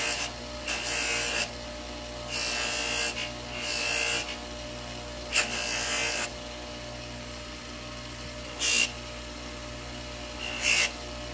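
Swipes of abrasive sanding along a Kydex edge make rough, raspy bursts of about a second each, close and fairly loud, repeated five or six times with short pauses between them over a steady background hum.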